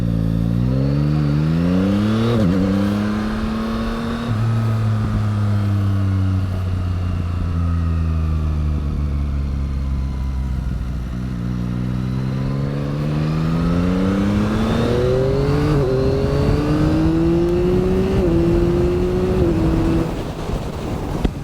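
A Yamaha MT-09 motorcycle cruising on the motorway, its engine droning loudly and continuously with pitch rising and falling through gear changes and acceleration, wind rush underneath, no talking.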